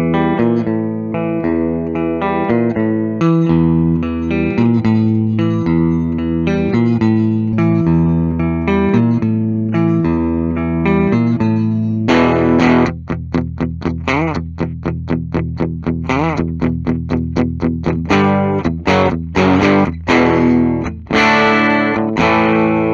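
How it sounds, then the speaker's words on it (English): A Gibson Kirk Hammett 1979 Flying V electric guitar with passive pickups plays loud and distorted, first sustained chords, then fast palm-muted chugging riffs and stabs, with heavy drive and some chorus and reverb; no talk. "So let's go ahead and plug in this passive version of this guitar."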